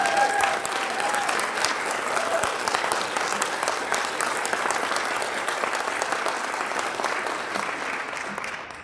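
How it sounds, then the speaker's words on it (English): At an AISES leadership gathering in Tulsa, Oklahoma, a large audience applauds the sponsors with steady, dense clapping that holds for several seconds before gradually thinning, with faint voices mixed in. "one more round of applause for all of our amazing sponsors."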